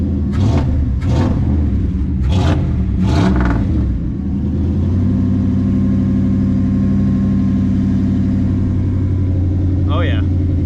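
A Dodge Dakota truck engine with newly fixed fuel lines fires up, with several sharp revs in the first four seconds before settling into a steady, loud idle rumble. A voice is heard early on.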